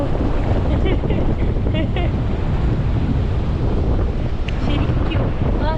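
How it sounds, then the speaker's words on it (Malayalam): Sea waves wash onto a black sand beach in Mexico under strong, constant wind buffeting the microphone, a dense, loud roar with no clear breaks. "ഇപ്പോൾ ഈ കടൽ ഇങ്ങനെ കൂടുതൽ വേവ്സ് ഉള്ളതുകൊണ്ടായിരിക്കും"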